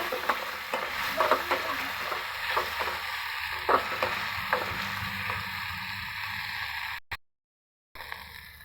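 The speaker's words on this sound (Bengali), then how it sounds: "এখন আমি মশলাটা ভালোভাবে তেলের মধ্যে ভেজে নেব।" Turmeric and ginger-garlic paste frying in hot oil in a pan, a steady close sizzle broken by scraping stirs, with a short gap of silence near the end.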